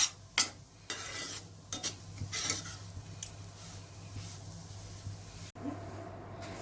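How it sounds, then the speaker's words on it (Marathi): Fine semolina roasting in oil in a pan, stirred with a spoon: soft crackling sizzle with a few scraping strokes near the start, then quieter steady frying, heard up close without talk. "तेलात रव्याचा खरपूस वास येईपर्यंत रवा व्यवस्थित भाजून घेऊया"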